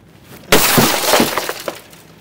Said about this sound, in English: Busting all your windows out.